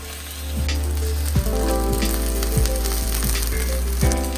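Thick chicken breasts searing in a cast iron skillet, a loud, steady sizzle with a few sharp pops and crackles, close up and with no voices.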